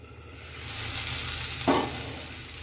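Potato bhaji frying in a pan being stirred, a steady bright sizzle rising as the cover comes off, with one soft scrape of the spoon near the end.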